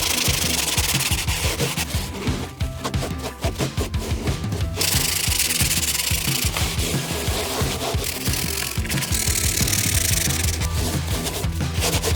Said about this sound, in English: I've been getting a good scrub for the last 10 minutes or so, and along the front here